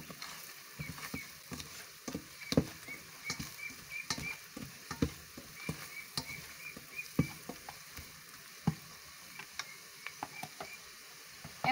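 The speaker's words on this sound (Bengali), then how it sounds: "গরম তেলের সঙ্গে শুকনো মশলার উপকরণগুলো মিক্সড করে নিচ্ছি" Dry spices fry in hot oil, a steady soft sizzle broken by irregular clicks and scrapes of stirring, close and fairly quiet with no talking.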